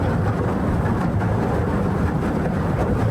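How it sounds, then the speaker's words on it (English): Grand Isle Ferry breaking through ice on Lake Champlain gives a dense, continuous low rumble and grinding roar, steady and loud throughout. "That's the sound of the Grand Isle Ferry breaking through icy Lake Champlain"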